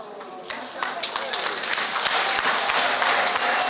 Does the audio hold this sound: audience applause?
yes